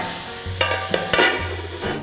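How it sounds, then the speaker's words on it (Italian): Soft sizzle of onions beginning to fry in a pan with leftover boiled meat, with a few clinks and scrapes of stirring, fairly quiet and close. "Quando sentite il rumore, questo rumore qui, cioè che sta cominciando a soffriggere"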